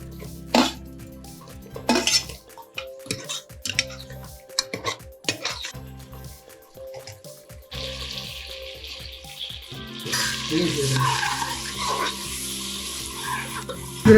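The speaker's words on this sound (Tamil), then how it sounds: "ரெடியா பாருங்க எப்படி கிளறிக்கிட்டு இருக்கான் பாருங்க" Country chicken biryani with tomatoes being stirred in a pot, metal utensil scraping and clanking against the pot in irregular strokes, with a steady sizzle and cooking noise building in the background.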